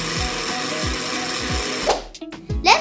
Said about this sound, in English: transfer the same in a blender and powder it